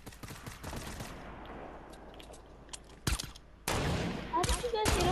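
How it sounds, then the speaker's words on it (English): Gunfire in a Fortnite match, a quick volley of sharp shots followed by scattered distant pops and then louder close bursts near the end, with players talking over it. "They're shooting at each other."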